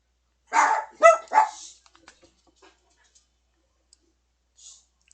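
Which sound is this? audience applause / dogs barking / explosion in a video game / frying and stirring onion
dogs barking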